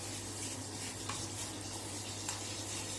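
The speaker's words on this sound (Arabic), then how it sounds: "هنحمر الشعريه للدرجه اللي انتوا طبعا عايزينها" Vermicelli stirred and frying in a pot for Egyptian lentil soup, giving a steady, soft sizzle with faint scraping stirs and occasional light clicks, close and alone without voices.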